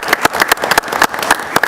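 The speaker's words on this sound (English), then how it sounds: "So let's give them a round of applause." An audience claps in applause after a presentation, with many hands clapping in quick, uneven bursts close to the microphone throughout the short stretch.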